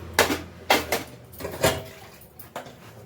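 An aluminium cooking pot is scrubbed by hand in a series of short, rough scraping strokes with metallic clatter, close and fairly loud, with no talking.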